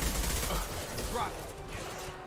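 Sustained gunfire in the Mass Effect 2 video game, a loud, dense rattle of shots that holds steady for a couple of seconds before easing slightly.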